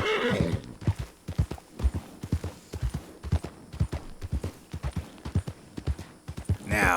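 A video-game horse clip-clops in a steady, rhythmic gait of close, distinct hoofbeats, with a whinny rising at the start and again at the end.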